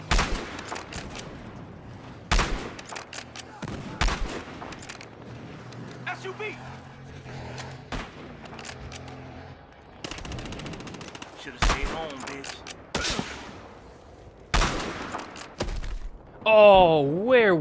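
Gunfire in the game Battlefield Hardline, with sharp bursts and single shots scattered among quieter stretches, loud and close, along with in-game voices and a player talking.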